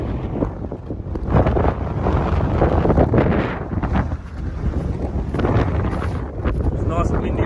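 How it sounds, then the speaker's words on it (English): Strong wind buffeting across an exposed mountain summit on Cradle Mountain, a loud continuous rushing roar with gusty swells that drowns out other detail. "It's nice and windy up here."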